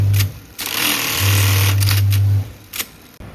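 An industrial sewing machine in a jeans factory stitching denim seams, a loud close mechanical whir that runs in long bursts with short pauses between, alone without speech.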